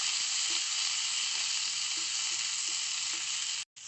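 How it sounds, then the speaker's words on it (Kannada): Onion, curry leaves and sprouted field beans (avarekalu) frying in a pan, a steady broadband sizzle with faint stirring knocks, continuous and close, ending in a brief cut of silence. "ಈರುಳ್ಳಿ ಸ್ವಲ್ಪ ಫ್ರೈ ಆದ ಮೇಲೆ ಕರಿಬೇವು ಹಾಗೂ ಸ್ವಲ್ಪ ಇದ್ಕಿದ ಕಾಳನ್ನು ಹಾಕಿ"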